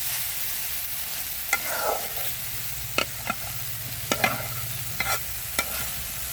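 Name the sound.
stirring and frying amrul greens and potato in a pan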